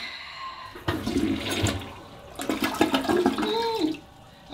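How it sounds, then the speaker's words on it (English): A hotel toilet flushes close by, a sudden rushing surge of water that swells, gurgles and drains over a few seconds, then falls back toward quiet with no voices. "We gotta do the flush test."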